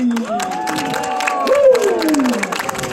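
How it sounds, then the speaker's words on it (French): Onlookers at a Montreal firefighter training drill applaud and cheer for about three seconds. Light clapping sits beneath prominent voices and whoops rising over the crowd. "On l'applaudit."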